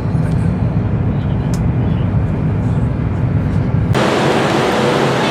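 High-speed train running at 275 km/h, a steady loud broadband roar of wind and rolling noise, resembling aircraft cabin noise, continuous throughout with a sudden brighter hiss near the end.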